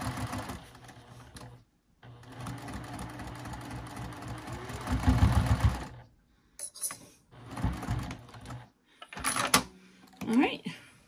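A sewing machine stitches a seam on a small zipper pouch in bursts of steady mechanical whirring, stopping and restarting several times, with a voice talking over and between the runs.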